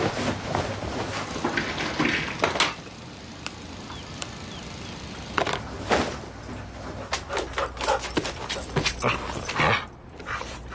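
A dog in a TV advert whimpers and gives short yelps amid clatters and door-like bangs, with scattered sharp knocks and rustling throughout, fairly close.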